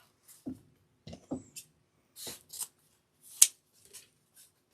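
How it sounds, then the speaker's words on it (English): Scissors snip through craft material for a St. Patrick's Day gnome and ribbon kit, a handful of short, crisp, close cuts spaced irregularly in an otherwise quiet room. "So, I'm going to cut that one off."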